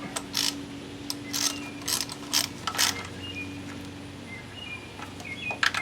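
Ratchet clicks tightening a spark plug on a Toyota Corolla, several short bursts of rapid metallic clicking up close, with faint birdsong in the background.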